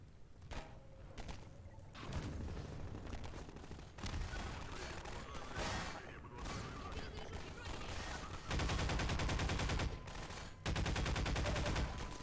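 Rapid bursts of machine gun fire in the video game Half-Life 2 crackle in loud, dense volleys, with intense stretches of continuous shooting and faint talk mixed in.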